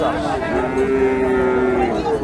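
At the Hasokhali cattle market in Bogura, a young Friesian bull calf lets out one long, loud moo near the listener against a noisy market background.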